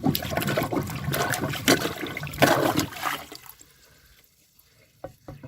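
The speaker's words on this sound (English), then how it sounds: "let's go ahead and push this plunger in here. We're going to push on it," A rubber plunger works a clogged toilet, driving water that sloshes and gurgles loudly in the bowl for about three seconds, then fades to quiet with a few faint drips and knocks.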